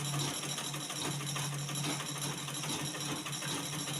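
A sewing machine stitching slowly with its thread tension set very tight, giving a loud, continuous mechanical whir and rapid clatter from start to finish, close up with no talking.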